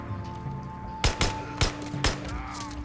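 Gunfire in Days Gone: a rapid run of four or five loud, close shots cracking in quick succession over a steady ambient hum.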